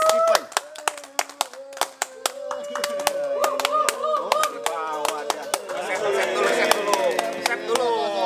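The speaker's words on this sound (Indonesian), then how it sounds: "kita panggil dan tepuk tangan buat Sule" Scattered hand claps greet guest Sule on a studio talk show about reptile keeping: sharp, separate claps under ongoing talk, growing thicker and more continuous toward the end.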